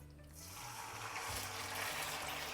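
Beef slices drop into hot oil in a wok for Cantonese beef chow fun, and after a brief quiet start a loud, steady sizzling hiss takes over and holds for the rest of the moment.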